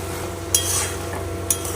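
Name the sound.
cabbage curry being stirred and fried in a pan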